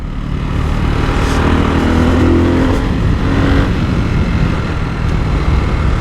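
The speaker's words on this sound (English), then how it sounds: "taking off with the Hypermotard" A 2024 Ducati Hypermotard 698 Mono single-cylinder motorcycle pulls away with a loud, close engine roar that swells and holds steady, and no one talks over it.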